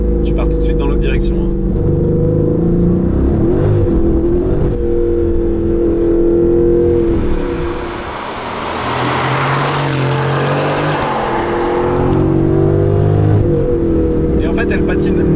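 A 2019 Aston Martin Vantage AMR with a manual gearbox accelerates hard and loud. The engine roar climbs through the revs, dips briefly around a gear change, then surges again, with tire noise mixed in.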